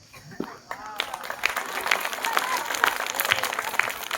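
An audience claps at a school farewell ceremony, the clapping building from a quiet start into steady, fairly loud applause that lasts to the end.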